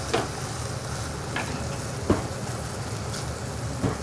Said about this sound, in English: Okay, my mushrooms are cooking.